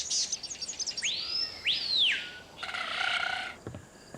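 Varied bird calls in the wild: quick high chirps, two long sweeping whistled notes, then a buzzy trilling phrase, moderately close and loud over a soft noisy background.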